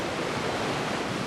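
Water pours continuously down an Alaskan waterfall with stepped ledges where salmon leap, a loud, dense rush of noise that stays steady throughout with no voices.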